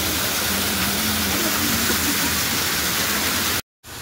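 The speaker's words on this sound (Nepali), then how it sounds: "एकदमै राम्रो वाटरफलको दृश्य तपाईँले देख्न सक्नुहुन्छ।" Steady broadband roar of a waterfall near Manakamana temple in Nepal, loud and continuous like heavy rushing water, cutting out abruptly near the end before resuming.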